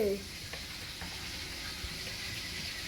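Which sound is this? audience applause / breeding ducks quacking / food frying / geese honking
food frying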